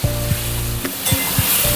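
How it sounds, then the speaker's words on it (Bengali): Wet spice paste is stir-fried with ridge gourd in a hot pan, a soft continuous sizzle broken by regular scraping strokes of a spatula roughly every third of a second. "এবার মশলাটাকে কষাবো ভালো মতন করে"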